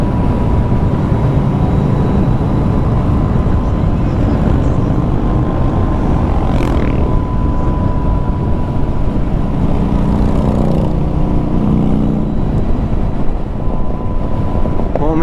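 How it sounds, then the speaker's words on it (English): Tire hum and wind roar from a LiveWire electric motorcycle riding, a loud constant broadband rush that stays steady throughout with only slight swells. "It's really just the hum of the tires, I guess."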